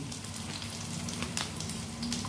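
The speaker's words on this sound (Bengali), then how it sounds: "প্রথমে তেল দিয়ে দিয়েছি কড়াতে, তাতে একটা বড় সাইজের পেঁয়াজ দিয়ে দিলাম। এবার কটা রসুনের কুচি দিয়ে দিচ্ছি" Onion and chopped garlic fry in oil in a wok, giving a steady, dense sizzle with soft crackles throughout, fairly quiet and with no voices.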